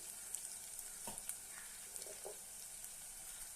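Chopped onion with ginger and garlic sizzles steadily in hot oil in a pan for fish gravy, a soft, even crackle with a few stirring scrapes and light pops, fairly quiet.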